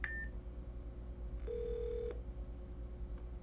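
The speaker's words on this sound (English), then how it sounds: "So I can initiate a call from circuit asking the phone to dial." A desk phone dials out through a unified communications connector, giving a short run of steady DTMF keypad tones: a brief tone at the start, then a longer held tone in the middle, over a low background hum.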